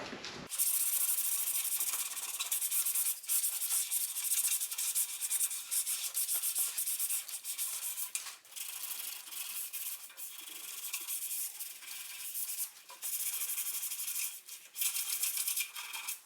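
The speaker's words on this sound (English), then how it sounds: "now I got to get a handheld 80 grit, get in here and scuff inside" Hand sanding with 80 grit paper, scuffing the inside of a 2013 Camaro bumper cover: a steady, close, continuous rasping rub that runs alone with brief pauses, no talk.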